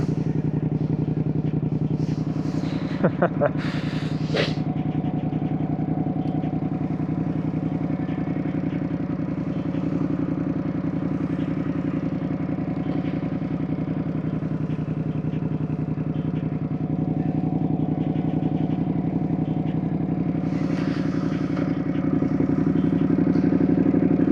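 Steady, close engine drone of a 2025 Ducati Panigale V2 S motorcycle while riding, holding an even note throughout with a couple of brief clattering knocks near the start.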